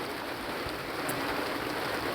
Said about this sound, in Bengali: তো দেখুন বৃষ্টি কীভাবে পড়তে আছে